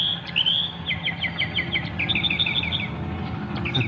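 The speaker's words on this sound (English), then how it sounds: "There's a few like tweeting birds you can hear on the soundtrack." Birds tweet in a dawn scene from the 1968 horror film Night of the Living Dead, with repeated bright chirps in short rhythmic runs over a steady low background hum.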